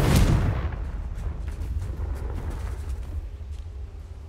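A Confringo fire spell blast in Hogwarts Legacy hits with a heavy booming explosion at the start, then a long rumbling decay that fades over the next few seconds.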